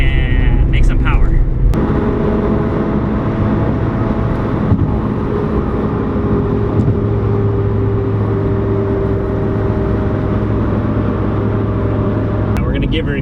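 A Mazdaspeed Miata engine running Megasquirt engine management is revved hard through a pull, a loud, steady drone that holds throughout the clip.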